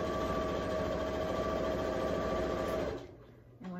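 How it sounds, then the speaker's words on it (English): A sewing machine runs steadily, stitching binding onto a quilt backing with a loud, close, buzzing mechanical drone, then abruptly stops near the end, leaving faint low rumble and a brief click. "And then I'm going to stitch all the way around this backing with the binding on it at 1/4 inch down each side."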